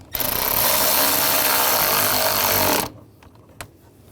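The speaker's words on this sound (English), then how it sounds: "Snug that down and put the other screw in on the other side." A power tool buzzes loudly and steadily for about three seconds while snugging a screw on the cooling fan of a 2009-2017 Volkswagen Tiguan, then stops, followed by a single faint click.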